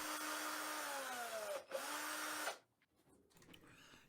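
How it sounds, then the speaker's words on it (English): Power driver unscrewing H4 hex screws from a Veteran Patton electric unicycle, a close whining motor burst with falling pitch, a short break, another whir, then quieter fiddling clicks. "this is just me taking off all the screws."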